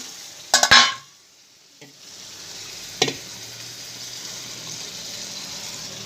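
Chole chickpeas tipped into a hot cooking pan set off a sudden loud hissing burst, which settles into a low, steady sizzle with a single clink of stirring partway through. No one speaks.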